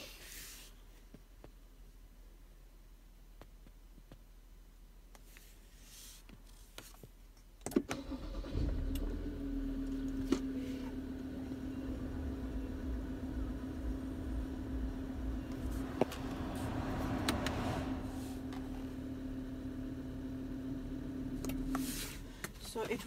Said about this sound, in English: Now I'll start the car and let's check.